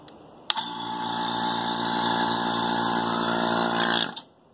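A homemade vacuum pump for bagging RC plane wings clicks on and runs as a loud, steady buzzing hum for about three and a half seconds, then cuts off with a click.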